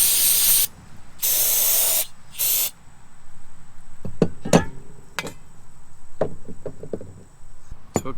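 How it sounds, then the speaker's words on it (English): Carb cleaner sprays onto engine parts from a 50-year-old Gravely 816 rear-engine garden tractor with an Onan twin. Three loud, close hissing bursts come first, then clinks and knocks of parts being handled. "use carb cleaner to get all the crap off."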